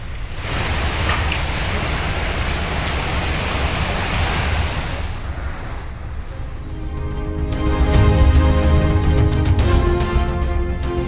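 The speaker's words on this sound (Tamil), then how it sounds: "கேரள மாநிலம் காசர்கோட்டில் தொடர் மழையால் வெள்ளம்." Steady, continuous heavy rain pours down during flooding in Kasaragod, Kerala, a dense broadband wash that swells louder in the last few seconds, with no voices present.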